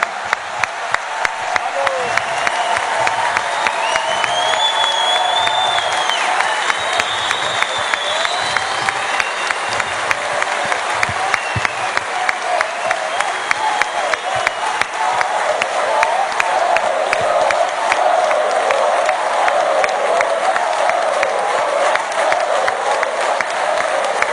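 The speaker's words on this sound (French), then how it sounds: "je vous propose qu'on leur fasse vraiment un applaudissement chaleureux" Sustained audience applause at the WorldSkills 2023 opening ceremony in Lyon, a large crowd clapping steadily and densely with some cheering, loud and unbroken throughout.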